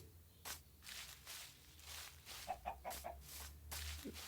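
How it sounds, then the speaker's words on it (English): Minecraft chickens cluck softly in a few short bursts over a low steady background hum, fairly quiet and somewhat distant. "There's some chickens."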